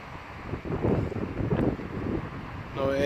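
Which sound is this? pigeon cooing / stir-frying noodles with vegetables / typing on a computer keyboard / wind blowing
wind blowing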